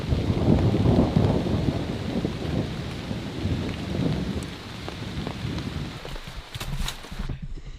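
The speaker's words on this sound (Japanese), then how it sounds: "ほらまた降ってきた。" Rain pours down in the Borneo jungle, a dense steady patter with low rumbles of thunder rolling through, the downpour easing and thinning toward the end.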